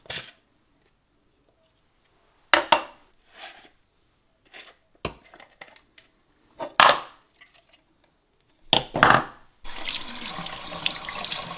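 Hot tap water runs in short bursts while a Silvercrest SSM 200 sorbet maker is rinsed clean, with knocks and clatter between bursts and a steady stream of water at the end.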